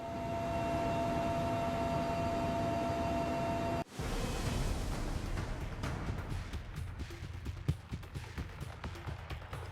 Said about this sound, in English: A 1-hour helicopter trip to the headquarters of Jubaland